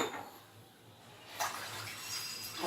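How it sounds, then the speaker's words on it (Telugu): A glass and a half of water poured into a pressure cooker on a stove: a short, soft rush of pouring water with a brief splash partway through, close and low in level. "కుక్కర్ పెట్టుకొని దాంట్లో ఒక గ్లాసున్నర వాటర్ వేద్దాము"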